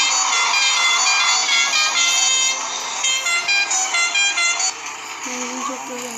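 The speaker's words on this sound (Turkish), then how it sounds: "Kornaya bastım." A bright, sustained car horn in the game Dr. Driving blares from a modded Tofaş car, then sounds in several short honks over engine rumble, with a voice speaking briefly underneath.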